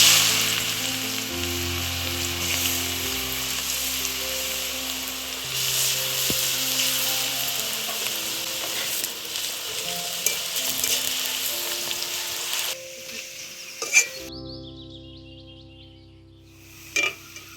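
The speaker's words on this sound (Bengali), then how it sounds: "তেলটা গরম হয়ে গেছে, এবার আলু দিয়ে দেবো। অল্প অল্প করে দেবো।" Raw potato shreds fry in hot white oil for a Bengali crispy potato jhuri, giving a loud, steady sizzle with light stirring and utensil clatter. It cuts out suddenly near the end, leaving a few short knocks.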